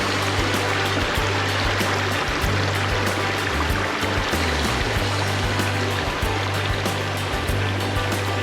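Dense, continuous rush of the Weld River stream in Tasmania, close and loud with steady bubbling and splashing texture, alone without voices.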